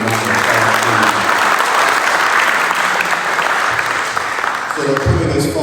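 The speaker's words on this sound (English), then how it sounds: "so we're going to give them a round of applause" A crowd at a scholastic and scholarship awards ceremony gives sustained, loud clapping for student award recipients, with a voice starting to speak over the applause near the end.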